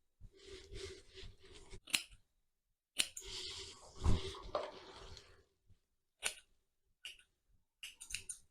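Scissors snipping through hair up close, in quick clustered cuts followed by a few sharp, isolated snips with pauses between them, quiet and without talk.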